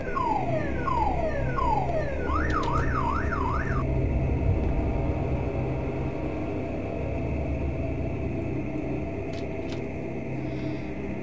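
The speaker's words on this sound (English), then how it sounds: "Those are damn alarms, they always go off for no reason." Car alarms wail in a horror video game, first falling chirps and then a fast rising-and-falling warble, followed by a steady dark hum with faint beeps.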